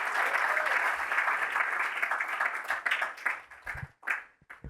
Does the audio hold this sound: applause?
yes